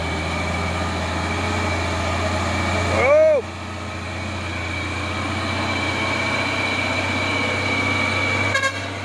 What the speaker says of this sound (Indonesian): Truk tronton Puso Oren 6x4 tadi